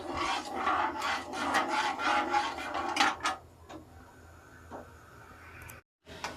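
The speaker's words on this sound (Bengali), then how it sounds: "এবার একটু অনবরত নাড়তে হবে এরমভাবে" Cardamom-spiced motichur laddu mixture stirred steadily in a pan, giving close, rhythmic scraping and rubbing strokes for about three seconds, then quieter intermittent scrapes and a brief silence.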